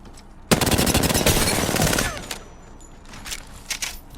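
SMG fire in the Apex Legends video game: a loud rapid burst of automatic gunshots lasting about a second and a half, followed by a few scattered quieter shots and game sounds.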